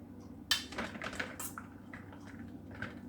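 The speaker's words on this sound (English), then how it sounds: "put this cooked macaroni in a big bowl here" Cooked macaroni tipped into a big bowl, with a sharp clatter of utensil on dish followed by soft, wet tumbling and light clinks, close and fairly quiet.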